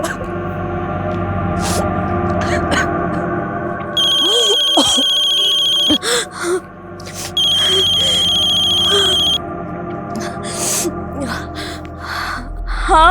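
A mobile phone ringtone rings twice in long bursts over a tense drama scene with music, gasps and movement around it.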